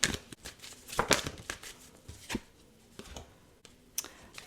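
A tarot card deck is shuffled close by in a quiet room, giving soft irregular riffles and papery flicks with short pauses between them.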